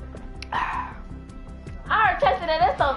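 A dog barks in a few short, harmonic yelps and bow-wows close by, layered over voices talking in the background.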